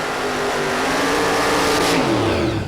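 Nitro drag racing launch at Hockenheim, a dragster against a Dodge Daytona funny car, a loud sustained engine roar with rising pitch as the cars accelerate away, close and continuous.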